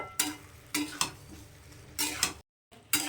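Capsicum cubes are stirred into chicken curry in a pan, with several distinct spoon scrapes and clanks against the pan in an uneven rhythm, a brief gap of silence partway through, over a low sizzle.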